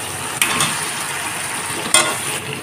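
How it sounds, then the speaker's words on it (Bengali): Potatoes are gently stirred into chicken frying in a pan for biryani over a low flame, a steady sizzle with two brief scraping stirs of the spoon. "আলুগুলো দিয়ে খুব একটা নাড়াচাড়া করব না, হালকাভাবে এইভাবে আলুটাকে মিশিয়ে নেব"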